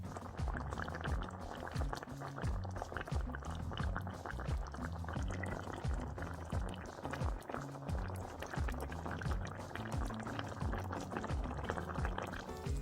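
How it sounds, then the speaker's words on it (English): Spinach is stirred into a simmering saag gosht curry over medium heat, a continuous wet bubbling and sizzling with soft scraping of the spoon through the pot, steady and close. "just keep stirring it in, that spinach is wilting"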